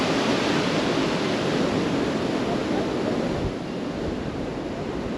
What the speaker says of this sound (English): you can hear the waves for sure